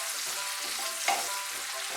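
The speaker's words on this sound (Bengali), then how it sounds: "দিয়ে একটু ভালো করে ভেজে নেব" Green chillies frying with onions in oil in a pan, a steady close hiss and crackle with one brief stir or clink of a utensil partway through, no talk.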